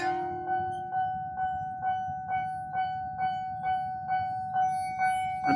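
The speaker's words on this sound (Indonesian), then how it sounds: "Nah, ini kereta api menuju Bogor." A commuter train passing Citayam station in Depok on its way to Bogor, heard as a steady run of rhythmic wheel clacks over rail joints beneath a constant rumble, with sustained ringing tones above it.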